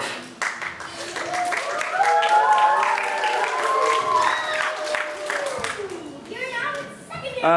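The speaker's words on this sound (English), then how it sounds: "We're going to hold the applause until I've read all the names" Scattered clapping from a crowd at a school assembly runs under someone speaking in a large room, with steady room noise throughout.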